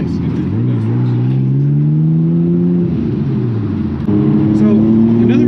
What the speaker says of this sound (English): Oh, is that a McLaren?